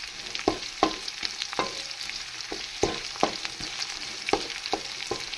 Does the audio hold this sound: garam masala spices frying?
yes